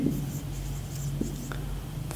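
Pen scratching on paper in short strokes, near and quiet, as notes are written down during a lesson, without talking over it.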